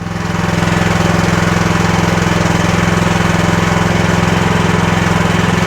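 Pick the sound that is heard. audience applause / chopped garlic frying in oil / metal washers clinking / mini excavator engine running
mini excavator engine running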